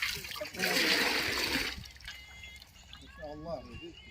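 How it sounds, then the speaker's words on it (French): Water is drawn from a traditional village well in Togo, a splashing, pouring gush for about a second followed by trickles, with people speaking nearby afterward. "ça fait quoi de puiser l'eau d'un puits?"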